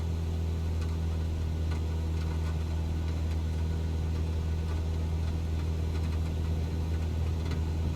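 A steady, droning propeller-plane engine hums at constant loudness in Microsoft Flight Simulator 2020 as the throttle is pushed to full for takeoff, low and continuous with no speech.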